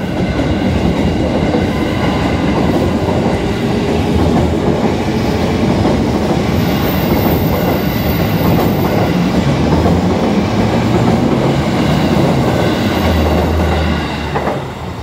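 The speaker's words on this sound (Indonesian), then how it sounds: "tiba-tiba ada kereta tuh keluar dari stasiun Sauk" A train rolls loudly and steadily past a permanently closed railway crossing at Cisauk, with continuous rumbling and rhythmic wheel clatter close by throughout.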